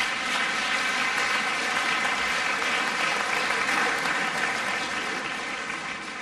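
Sustained applause from an audience at a fashion show, dense and steady clapping filling the whole stretch without pause, loud and close.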